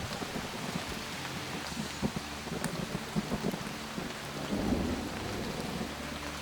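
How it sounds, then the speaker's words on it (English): Heavy rain falling on an empty beach, a steady dense hiss with low rumbling that suggests thunder, fairly faint and with no voices. "Like it's pretty raining heavily, so people are not here"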